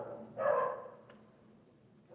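A single dog bark, sharp and moderately close, followed by quieter room tone and a faint second sound starting at the end; no talking.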